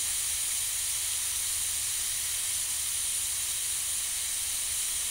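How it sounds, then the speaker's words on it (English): Steam hissing out of an Afghan kazan pressure cooker over a wood fire, a loud, steady, unbroken jet of hiss that goes on throughout with no talking. "Just lifting so that they let the air out, steam out."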